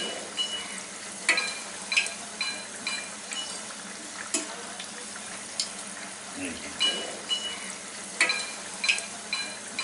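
Oreo biscuits fry in hot oil with a steady crackling sizzle, punctuated by irregular sharp pops and light clinks as a utensil turns them.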